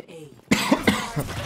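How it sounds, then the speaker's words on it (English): A short burst of close, harsh coughs, three or four in quick succession after a faint hum. "I currently have a bit of a cough, so you might hear some coughing now and again."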